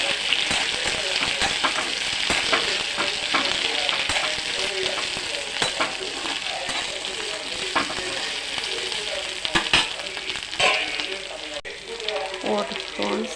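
Okra pieces sizzle and fry steadily in a hot pan, a continuous dense crackle with occasional stirring clinks, close and fairly loud throughout, with no talking.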